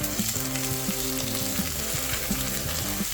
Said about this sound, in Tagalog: Pan-seared mo lang yung beef sa mainit na kawali.